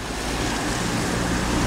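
Sea waves surging against the rocks at the harbour of Porto Azzurro on Elba, a steady loud wash of surf mixed with wind noise and no talking.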